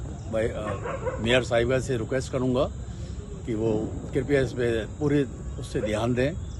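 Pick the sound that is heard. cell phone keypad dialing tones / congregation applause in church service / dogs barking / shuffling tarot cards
dogs barking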